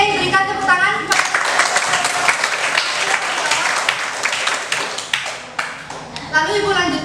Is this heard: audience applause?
yes